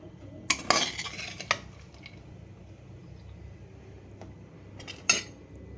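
Bitter gourd fry spooned from the pan into a bowl, with a cluster of metallic spoon scrapes and clinks near the start, a quiet stretch, then another sharp clink and scrape near the end.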